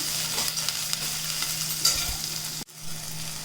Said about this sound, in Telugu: అదే ఉల్లిపాయ కొంచెం వేగిందమ్మా